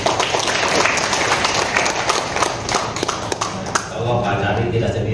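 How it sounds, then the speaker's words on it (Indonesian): An audience at a public gathering in Indonesia claps, a dense, loud patter of many hands that carries on steadily and eases slightly near the end, with voices mixed in. "beri tepuk tangan dulu Bapak Dari"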